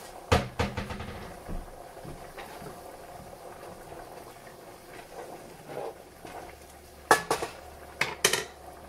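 A lid set onto a pot of simmering chicken broth, heard as a few sharp metallic clanks and clatters near the start and again toward the end, with quieter kitchen rattles and a low hum in between.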